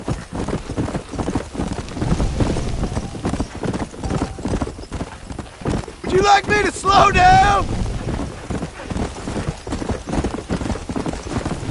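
Hooves clip-clop steadily from a galloping horse in the video game Red Dead Redemption, with wind rushing past and a brief whinny midway; a voice speaks over the hoofbeats.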